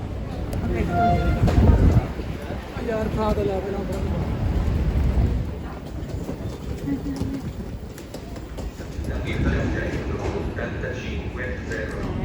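Rumbling rail noise of a moving train in Venice, with people talking and chatting over it throughout.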